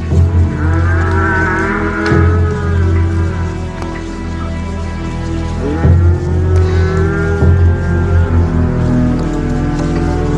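Cattle mooing loudly and repeatedly in a farm corral while a bull is herded, long lowing calls overlapping one another close by over steady background noise.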